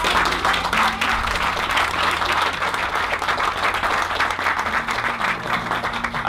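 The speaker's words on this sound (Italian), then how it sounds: "e quindi un applauso a Giuseppe Maggiolino." An audience applauds at an exhibition opening, a dense, steady wash of many hands clapping close by that holds at constant loudness throughout.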